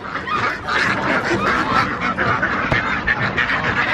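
A crowd of ducks quacks continuously and loudly outdoors in a park in Tijuana, overlapping calls forming a dense, restless chorus.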